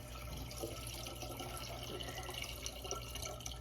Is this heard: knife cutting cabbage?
no